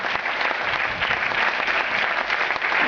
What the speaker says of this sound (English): let's get all our national finalists to stand so that everyone over here can applaud for this wonderful talent that you have